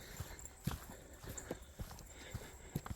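Hooves clip-clop in an even walking rhythm, a steady series of hollow knocks at moderate distance, with no talking.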